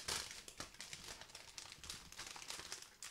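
Plastic bag crinkling as it is opened during a Gundam model kit unboxing, quiet continuous rustling and crackling close by, with small irregular bursts and no talk.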